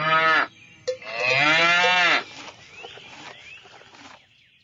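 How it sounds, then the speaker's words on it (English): A cow gives two long, loud, drawn-out moos close by, the second lasting over a second, followed by quieter rustling and faint bird calls. "The cow."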